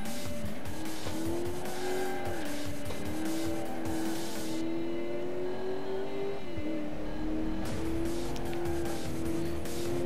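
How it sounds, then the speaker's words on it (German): A rear-wheel-drive car in the Alarm für Cobra 11 racing game roars at full throttle while it slides and pushes wide, its engine note holding high and loud throughout with a tire squeal layered over it. "Ich habe jetzt voll eingeschlagen und Gas gegeben. Also Vollgas und er kam nicht quer."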